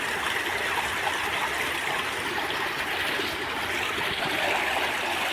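A muddy stream rushes and flows in a steady, dense wash of noise, constant and fairly loud throughout with no voices.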